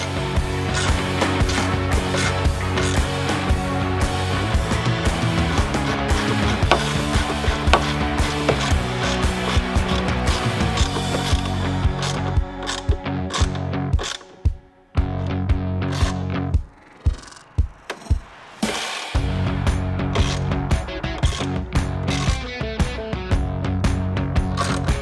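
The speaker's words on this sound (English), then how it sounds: "take your 10 mil socket, go ahead and tighten them down evenly." Ratchet with a 10 mm socket tightening the bolts on a Harley-Davidson touring motorcycle luggage rack: dense, fast clicking of the pawl in repeated bursts, close up, with brief pauses between strokes.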